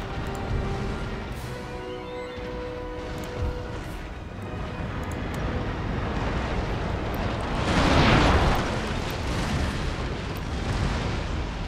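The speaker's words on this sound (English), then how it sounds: "Fire off the broadside just in case I screw it up and accidentally hit one of my own ships" Broadside cannon fire from sailing warships in Empire: Total War makes a dense, rumbling roar of overlapping booms that swells into a louder cluster partway through, with no talk over it.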